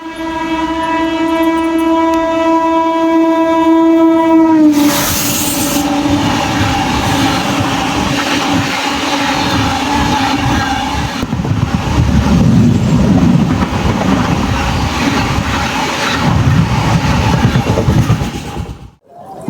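A loud, sustained train horn blares for several seconds, then an express train rushes past close by with heavy rumbling and clattering wheels until it fades, heard from aboard the Circar Express near Gummidipoondi.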